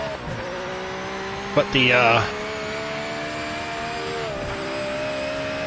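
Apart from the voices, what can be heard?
Japanese GT500 race car engine in a racing video game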